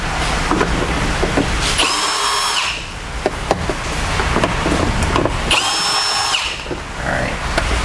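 A power drill driver backs screws out of a 2015+ Ford Mustang door panel, loud close whirring in two long bursts with ratcheting clicks and handling noise between them.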